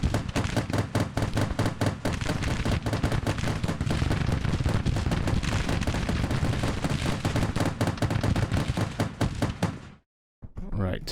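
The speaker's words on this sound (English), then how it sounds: "May have been underplaying the effectiveness of these machine guns." Machine gun and artillery fire in the strategy game Grand Tactician, a dense, loud, continuous rattle of rapid shots mixed with heavier booms. The barrage cuts off abruptly near the end before a brief burst resumes.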